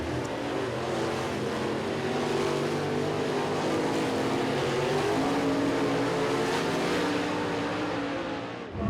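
Dirt track race cars circle a speedway near Talladega, their engines merging into a continuous distant roaring drone that swells and fades slightly without a break.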